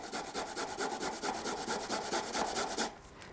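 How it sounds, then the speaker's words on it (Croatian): Food is rubbed over a kitchen grater in quick, even back-and-forth strokes, a steady rasping rhythm lasting about three seconds before stopping, close and alone with no talking. "Idemo sad ribati. Evo, ribamo ovo."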